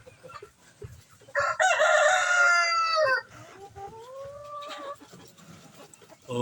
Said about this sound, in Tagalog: ayan ang gagandang mga manok